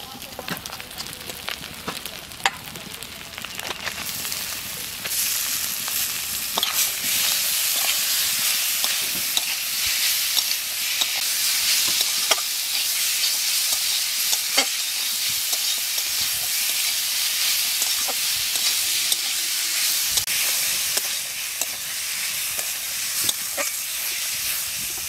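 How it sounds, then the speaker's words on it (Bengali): Fresh figs (dumur) being stir-fried in a cooked spice masala make a loud, continuous sizzle and hiss close by, with scraping stirs and occasional clicks throughout and no voices. "মশলা কষানো হয়ে গেছে, এখানে ডুমুরটা দিয়ে দেব।"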